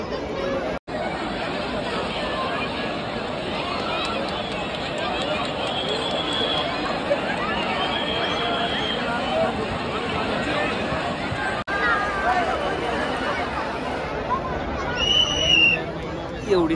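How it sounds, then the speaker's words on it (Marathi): Dense crowd chatter at Har Ki Pauri ghat in Haridwar before the evening aarti, a continuous babble of many voices with footsteps and occasional faint higher calls mixed in. "एवढी सगळी गर्दी जमलेली आहे आता"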